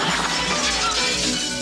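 A crashing, shattering sound effect from a 1984 Hungarian action adventure show, a loud, dense burst of breaking noise that fills the whole short stretch with no talk.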